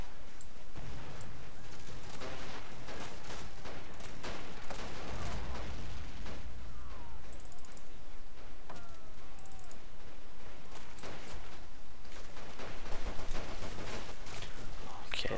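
Machine gun fire in the war strategy game Men of War: Assault Squad, dense rattling bursts and distant battlefield explosions running steadily throughout, with a voice talking over parts of the action.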